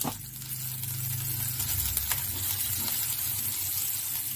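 Black cumin and chopped green chilli sizzling in hot ghee in a kadai: a steady, bright frying crackle with a brief low rumble at the start, continuous and close.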